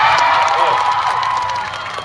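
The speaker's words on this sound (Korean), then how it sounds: "박수를 치실 거면 크게 치세요." Concert crowd at an outdoor dream concert, a dense sustained wash of clapping mixed with shouts and cheers, steady and loud throughout.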